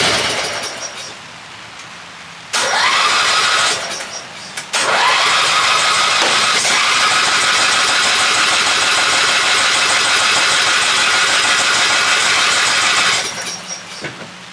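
A Yard Bug riding mower lawn tractor with a faulty choke cranks and catches after a false start, then runs loud and steady for several seconds before cutting out.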